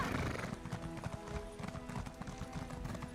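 Horse galloping in the video game Elder Scrolls Online, a quick continuous run of hoofbeats at steady pace, close and prominent throughout.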